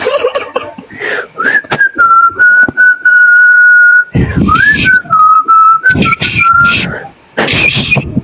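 A person whistles a sustained, wavering tone in two long stretches, close and loud, broken by laughter and shuffling noises.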